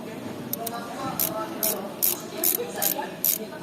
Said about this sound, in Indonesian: Jangan lupa kita menutup dengan ratchet.